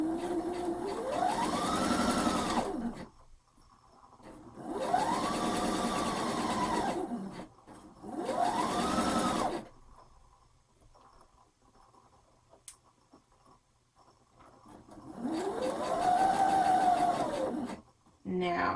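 Sewing machine stitching a seam on a summer romper, running in four loud bursts of several seconds each, separated by quieter pauses with faint clicks and low talk.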